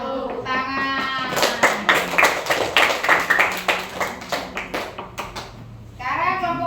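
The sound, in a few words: classroom applause after a group presentation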